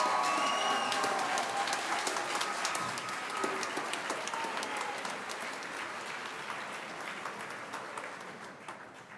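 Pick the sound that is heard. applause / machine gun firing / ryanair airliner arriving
applause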